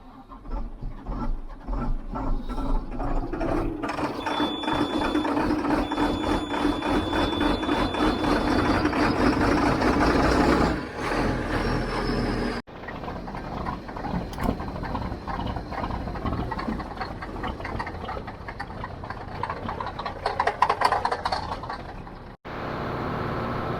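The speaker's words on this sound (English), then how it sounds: "start the tractor up." Farm tractor engine starting in cold weather, a rattling mechanical clatter and steady drone that runs loud and close, cuts off abruptly, then resumes with a rougher, slightly lower churning run.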